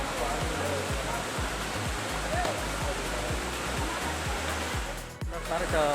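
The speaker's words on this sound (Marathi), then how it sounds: "बघा मागे वॉटरफॉल चालू आहे" Manudevi waterfall in the Satpuda hills near Jalgaon, a steady broadband roar of falling water that fills the whole clip, with a voice heard briefly over it.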